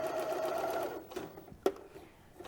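A sewing machine back stitches a DIY fabric face mask, a short whirring run of stitching followed by a pause and a sharp mechanical clack, heard close.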